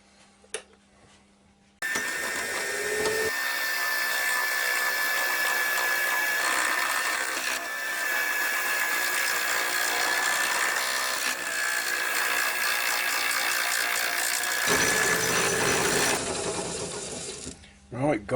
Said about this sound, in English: I've just got to drill this hole now all the way through